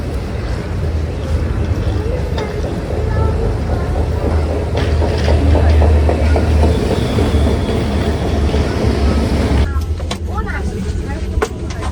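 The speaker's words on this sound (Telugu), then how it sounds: "ఇప్పుడు మా బుల్లెట్ ట్రైన్ జర్నీలో అయితే ఉన్నాము." Inside an ICE high-speed train crossing Germany, a steady low rumble and track hum run throughout, with faint murmured voices in the cabin. The sound shifts abruptly near the end.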